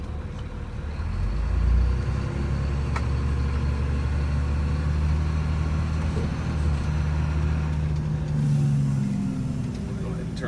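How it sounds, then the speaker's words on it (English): A SportChassis hauler truck coasts on level road with the brakes off, a steady low engine and road drone rumbling throughout, swelling slightly near the start and end. "The truck's pretty much stopping itself."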